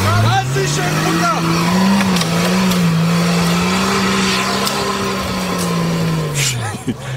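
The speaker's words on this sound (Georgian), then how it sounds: "ნახეთ ერთი გაზრი და მისცა და ავიდა უპრობლემო" An off-road vehicle's engine revs steadily and strains as it climbs, the drone rising and falling while tires scrabble, with voices heard faintly around it.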